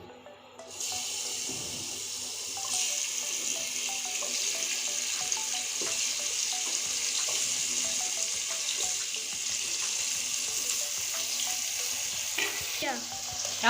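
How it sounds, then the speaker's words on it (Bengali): Salt and turmeric coated catla fish pieces frying in hot oil give a loud, steady sizzle that fills the whole stretch, with a brief stir or clatter near the end and no talking. "আমি এখন এই নুন হলুদ মাখানো মাছগুলো এখন আমি ভেজে নেব একে একে ছেড়ে দিচ্ছি"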